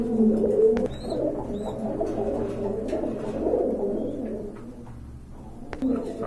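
Pigeons coo from a cage, including a pair of khaki pigeons, in a bird market: repeated low, throaty coos rolling on throughout, fairly close, with brief higher chirps over a steady murmur of background noise.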